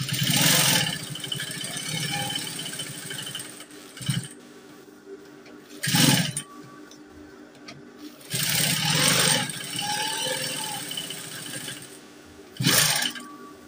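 A sewing machine stitches fabric for a ruffle turban in several loud runs of steady motor whirring lasting a second or more each, separated by quieter pauses and short bursts, close up with no speech.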